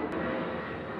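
Airplane passing overhead while riding a lowered Yamaha XJ6 motorcycle, a steady broadband engine roar filling the whole second, continuous and fairly loud with no talk over it.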